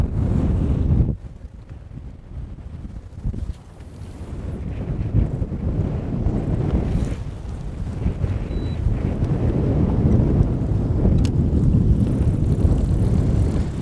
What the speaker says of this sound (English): the second we went live, it got way windier